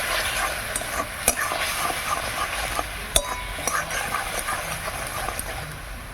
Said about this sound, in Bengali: এবার মশলা ভালো করে কষে নেব